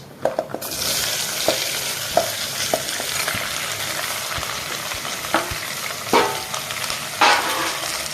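Cut big onions fry in hot oil in a pan, a loud, continuous sizzle broken by repeated scraping strokes of a spoon stirring them, close and with no talk.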